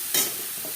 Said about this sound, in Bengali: 3-4 মিনিট মশলা বেশ ভালো করে কষিয়ে নেব।